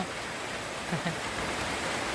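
Flowing water rushes past in a continuous, even wash of noise at moderate distance, with no distinct splashes.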